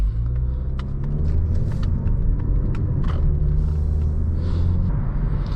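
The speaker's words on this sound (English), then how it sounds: "I do hear a little bit, like a slight amount of road noise" Steady low road rumble fills the cabin of a 2020 Mazda 3 Premium with a 6-speed automatic on the move, a continuous even drone with faint creaks and ticks over it and no talking.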